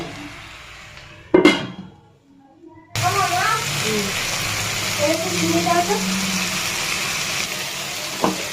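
Note shak greens fry in a pan with a steady, hissing sizzle that starts abruptly after a quiet pause and continues evenly, with a voice speaking briefly over it.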